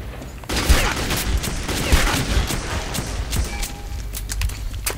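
Sustained automatic gunfire and bursts of shots ring out during combat in the video game Metro 2033, loud and continuous throughout with dense overlapping reports.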